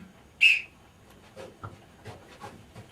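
A single sharp, shrill whistle blast blown on a theatre stage, loud and brief near the start, followed by quiet room noise with faint soft sounds.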